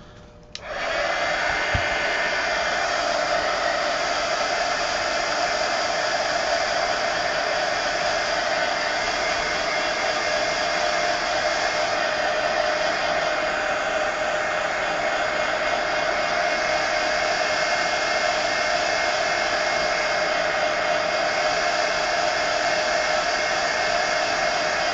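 A hair dryer blows steadily on wet paint on an adult coloring page, switching on abruptly and then running as a loud, constant whooshing hum with no pauses.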